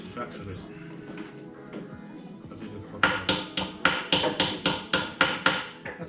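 A small hammer taps repeatedly on the top of a part on a 180SX drift car, about ten sharp metallic knocks in a steady rhythm, close and loud, following a stretch of workshop noise and talk.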